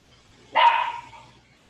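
A single sharp dog bark rings out clearly from a moderate distance over a quiet background, one short burst with a brief tail.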